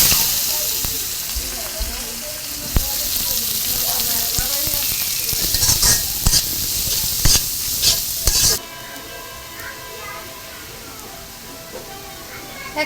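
Onions and whole garam masala frying in oil in a pan: a continuous sizzle and hiss with frequent scraping stirs and utensil taps, the sizzle quieting partway through while stirring continues.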